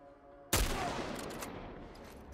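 A sudden burst of gunfire erupts in The Last of Us Part 1, a loud volley of overlapping shots that rings out and decays into a sustained rumbling tail, with no talk over it.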